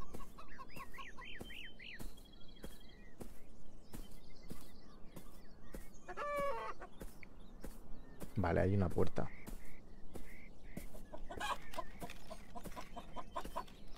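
Chickens cluck around farm houses in the video game Beyond Eyes, short fowl calls scattered through the scene, with someone talking over them.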